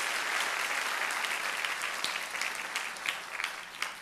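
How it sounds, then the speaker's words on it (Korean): A church congregation at a Sunday worship service applauds the young people, steady dense clapping from a large crowd throughout, fairly loud and filling the room with no talk. "우리 청년들에게 격려 한번, 박수 한번 해주시고"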